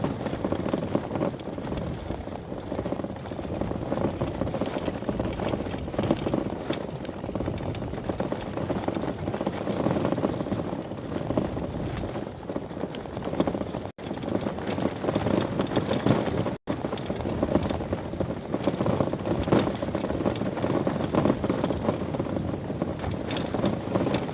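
Solar-powered touring bicycle towing a trailer over a gravel road in Muhu, Estonia, giving a continuous loud rattling, crunching rumble mixed with wind buffeting the microphone, with no one talking.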